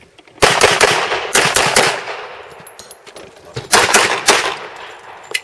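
Pistol shots ring out on an IDPA shooting stage at a range, loud sharp reports fired in quick bursts of several rounds with short pauses between strings, close to the microphone.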